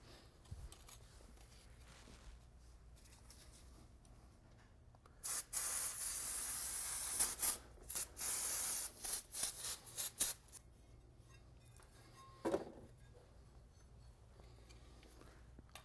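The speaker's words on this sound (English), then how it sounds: "we're going to take brake cleaner and spray everything down" Brake cleaner sprayed from an aerosol can onto car brakes, a run of loud hissing bursts, one long spray followed by several short ones, close by, with quieter workshop background before and after.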